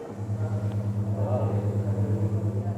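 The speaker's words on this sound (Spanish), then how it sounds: "el trueno es este" A restored baroque pipe organ in Cusco sounds its thunder stop, a deep, throbbing low rumble that pulses evenly and holds loud and close throughout.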